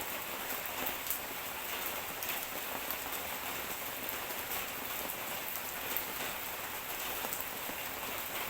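Steady rain falls on surfaces outdoors during the end of the rainy season, a dense even hiss with scattered nearer drops throughout, no voices.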